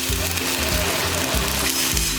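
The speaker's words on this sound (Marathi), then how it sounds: "मी चण्याची डाळ फोडणीला दिली आहे, हिरव्या मिरच्या टाकल्या आहेत" Chana dal and green chillies sizzle and crackle in hot oil, a dense continuous frying hiss close up, with faint stirring underneath.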